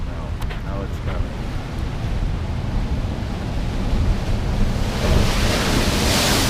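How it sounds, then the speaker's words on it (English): Ocean waves crashing on the shore at El Hierro, a continuous roar of surf with wind buffeting the microphone, building to a louder breaking wave toward the end. "It was a lot of fun just standing here and waiting for the next wave. And the waves keep on coming."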